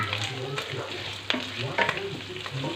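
Bacon sizzles in a frying pan as garlic is added and stirred, with scraping utensil clicks and clatter over a steady fry, close and moderately loud.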